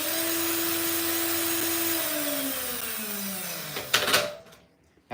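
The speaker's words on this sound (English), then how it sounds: "the sound of the air coming out of this fan, because I can tell you right now it's got some power" A small electric ducted fan driven by a handheld drill whines at a steady high pitch, then winds down in falling tone as it slows, ending with a brief clatter and a short burst near the end.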